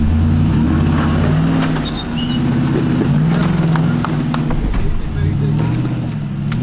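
A Nissan Patrol four-wheel drive crawls along an off-road track at Scenic Rim, its engine a loud, close, low rumble with creaks and knocks from the rough ground, and people talking over it.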